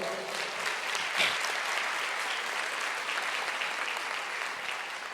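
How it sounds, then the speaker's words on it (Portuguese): A church congregation claps together in steady, sustained applause during a worship service, loud and even across the whole stretch, with a slight swell near the start. "Você pode aplaudir o Senhor?"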